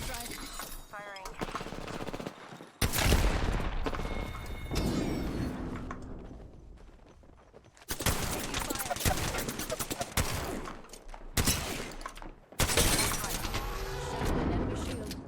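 Bursts of automatic gunfire in the battle royale game Apex Legends, several loud sustained volleys with short pauses between them, mixed with game sounds and occasional voice chatter.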